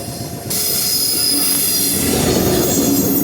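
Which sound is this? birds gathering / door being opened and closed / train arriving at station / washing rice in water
train arriving at station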